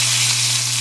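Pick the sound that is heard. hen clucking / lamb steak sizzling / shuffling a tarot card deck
lamb steak sizzling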